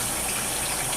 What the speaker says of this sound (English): let me re-wash my hands